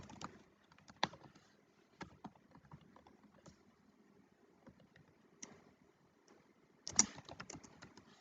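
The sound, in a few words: typing code on a computer keyboard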